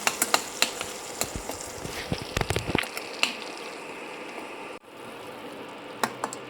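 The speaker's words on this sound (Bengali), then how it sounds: "এতে এই পেঁয়াজের পেস্টটা দিয়ে দেব, দিয়ে এটাকে একটু লাল করে একটু ভেজে নেব সামান্য" Oil crackles and sizzles steadily as onion paste fries in a pan, with scattered clicks of stirring over the hiss.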